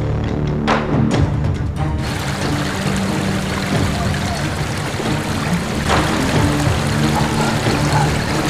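River water flows steadily and loudly throughout, a dense continuous wash with a few faint splashes and no voices.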